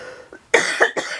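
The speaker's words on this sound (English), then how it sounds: "I still got a bit of a cough." A person with a lingering cough coughs twice, close and loud, after a faint throat sound, with no talking.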